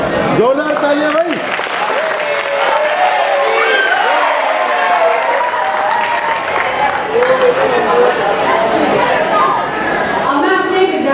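Loud, sustained applause from a school audience at a regional maths and science fair, dense clapping with crowd chatter and a few whoops running continuously for the full length.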